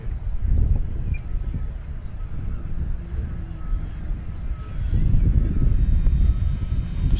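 An FMS DeHavilland Beaver 2000mm V2 RC plane flies with a steady engine drone heard from a moderate distance, swelling slightly toward the end.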